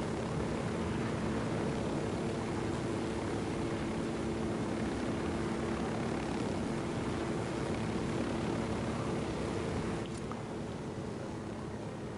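A helicopter flies in the video game Ghost Recon Wildlands, a steady droning rotor and engine hum that holds throughout and eases slightly near the end, with no talking.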